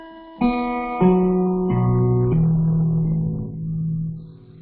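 Open guitar strings in an alternate tuning struck in sequence from high to low, notes overlapping and ringing out, the final low string sustaining and slowly fading.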